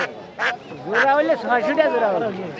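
Ducks quack in short nasal bursts at a busy rural livestock market in Salanga, Sirajganj, Bangladesh, where people talk over and between the calls.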